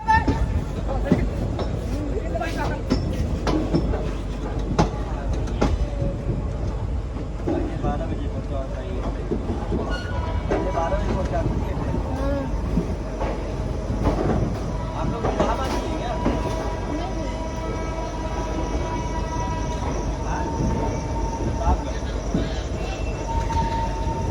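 A Mumbai-Varanasi Mahanagari Express train runs with loud rumbling, clattering wheels and intermittent squeals. Faint passenger babble sits underneath.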